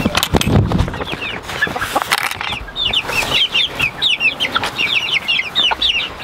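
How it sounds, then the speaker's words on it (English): Icelandic chickens, a broody hen and her young chicks, give repeated rapid high peeping and soft clucks close by, with a rustle and a brief flutter of wings at the start. "Here are the Icelandic chicks and the broody hen and her chicks that she hatched out."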